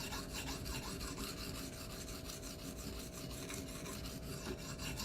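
A knife edge drawn repeatedly across Venev sharpening stones, giving a steady, continuous gritty rasping close to the microphone with rhythmic strokes and no voices.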